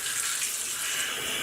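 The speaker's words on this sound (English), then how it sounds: "Alrighty, so I'm gonna be jumping in the shower." Water from a shower running steadily, a dense hiss with no breaks, close and alone with no voices.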